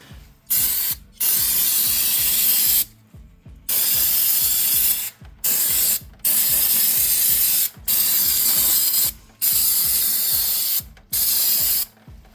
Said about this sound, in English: I'm gonna go grab some cleaner and spray this off.